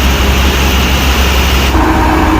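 A tractor engine labours hard at a rural tractor fair, a loud, steady low rumble that roars on without a break, its tone shifting slightly partway through.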